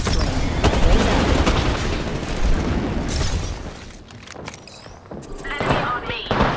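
Rapid bursts of gunfire and booming impacts from an Apex Legends match, loud and dense at first, thinning into scattered shots and thuds before picking up again, with voices talking intermittently under the shooting.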